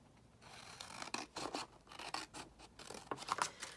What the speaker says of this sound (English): So I'm just going to snip this fold down.